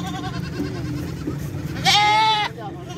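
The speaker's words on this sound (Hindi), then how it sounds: "टैडी बकरी है।" A Teddy goat at the Model Cattle Market in Faisalabad lets out one loud, harmonic bleat close by, following a stretch of quieter market murmur and faint voices.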